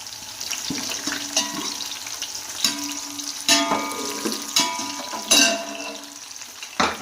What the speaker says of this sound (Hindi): इधर प्याज को हम अच्छे से ब्राउन कर लेंगे।